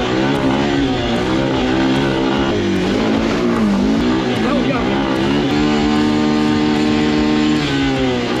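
A Honda Rancher ATV fitted with paddle tires accelerating hard, a loud continuous engine drone rising and falling in pitch as it revs through the run, close and steady, with voices talking over it.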